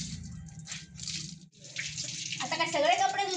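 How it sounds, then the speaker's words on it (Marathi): Water runs from a tap as clothes are washed by hand, a steady close splashing and rushing. A voice speaks over it near the end. "आता काय सगळे कपडे धुताना बघणार आहे."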